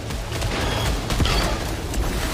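A weapon firing homing shots in the PS5 video game Returnal, a dense continuous barrage of blasts and booms layered over a loud, busy game soundscape.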